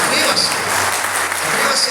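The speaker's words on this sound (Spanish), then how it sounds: "Dale un fuerte aplauso al Señor" A church congregation applauds, a loud, dense and continuous roar of clapping that fills the space evenly from start to finish.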